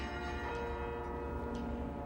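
Carillon bells ring out at the Mafra convent, played by a master carillonneur, with sustained overlapping tones forming a steady, resonant wash throughout.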